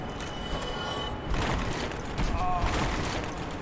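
A skeleton enemy blows up in Dark Souls Remastered, a burst of explosive game noise over busy combat sounds with two louder swells, while a voice talks throughout.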